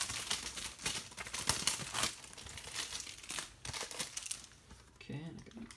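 Crinkly, crackling plastic wrap on a Vinegar Syndrome Blu-ray being torn and peeled open, a steady run of close rustles and tearing with a few sharper crunches, with a person talking faintly in places.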